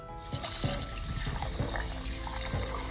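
Running tap water rinses the scooped inner gel of an aloe vera leaf in a sink, a steady close trickle with soft splashes and no talk.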